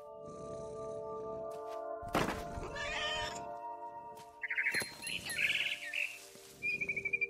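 Cat meows and bird chirps from the video game What Remains of Edith Finch, heard as several short, bright calls in the second half over a steady game soundtrack hum, with a sharp burst near the two-second mark.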